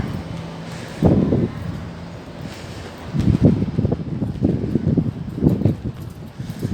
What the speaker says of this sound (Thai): นี่มองเห็นนครปฐมเลยนะลมแรงมาก